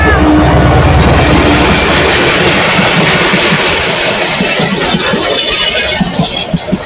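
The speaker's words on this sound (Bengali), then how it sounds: "অনেকক্ষণ হাঁটাহাঁটির পরে একটি ট্রেন দেখতে পেলাম, যার কিছু ভিডিও তুলে ধরলাম।" A train crosses the Gomti rail bridge in Comilla, a loud, close roar of wheels and cars with a rhythmic clattering that carries on throughout.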